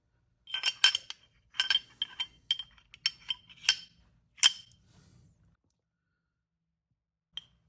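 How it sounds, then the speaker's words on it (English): Metal parts of a Walther PDP Steel Frame 4.5-inch pistol clink and click as the barrel is fitted, a run of sharp close taps and scrapes for about five seconds, then one faint click after a pause. "All right, let's put that barrel in."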